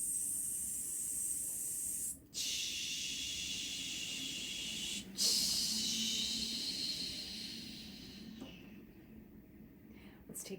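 During a breathing exercise, a person exhales with a long, steady hiss through the lips, close and soft, broken by two brief pauses for short sniffs before it gradually fades.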